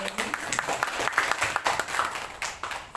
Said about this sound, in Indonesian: Kita kasih tepuk tangan yang meriah dulu untuk Bu Eri